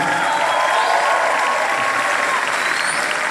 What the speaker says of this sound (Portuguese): uma salva de palmas para eles aí